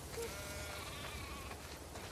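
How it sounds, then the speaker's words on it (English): Sheep bleat faintly in The Last of Us Part II, a soft, distant call that sits low in the game's background ambience, with no talking. "We definitely have way too many sheep."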